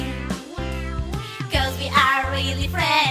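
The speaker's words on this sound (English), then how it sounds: "We hear meow." A cartoon kitten meows repeatedly in a children's song, a series of high, tuned meows sung over bouncy musical accompaniment.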